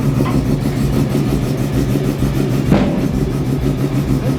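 A Nissan R32 GT-R race car engine runs steadily on a dyno at high revs with a harmonic drone, a brief surge in pitch near the end, no voices.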